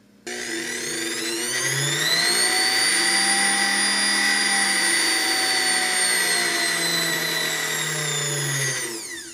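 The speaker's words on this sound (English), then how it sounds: "When this motor runs, it just sounds better." A German-made Kenmore 117.841 sewing machine motor spins up and runs at a steady, smooth whine with a rich hum for several seconds, then cuts off, heard alone and close.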